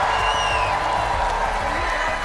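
A large live crowd at the Fortnite FNCS Globals event in Fort Worth cheering and roaring, a dense continuous wash of whoops and applause at steady volume.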